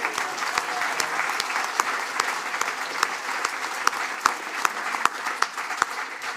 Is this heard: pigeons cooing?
no